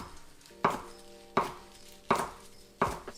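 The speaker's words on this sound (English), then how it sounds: "then you're going to slice the rest of the leaf into ribbons" Knife cutting leafy greens into ribbons on a board, four crisp, evenly spaced chops close up over a quiet background, with no voices.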